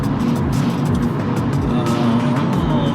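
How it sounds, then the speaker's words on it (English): Steady road traffic heard from inside a car travelling on Highway 273 toward Mount Holly, a continuous low rumble of engine and tyre noise with passing vehicles, no voices. "A little bit of traffic here, but not too bad."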